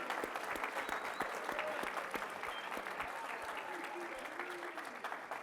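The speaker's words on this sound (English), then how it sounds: "Give our students a round of applause." Audience of students and guests at a Pro Football Hall of Fame talk claps in a steady, moderately distant round of applause, many hands blending into a continuous patter, with faint talk mixed underneath.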